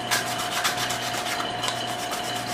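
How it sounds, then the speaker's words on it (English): A worn, shortened woodturning chisel is rubbed clean, giving a steady rasping, scrubbing sound that runs close and continuous with a constant hum underneath. "I'm going to do a little cleaning on my tool."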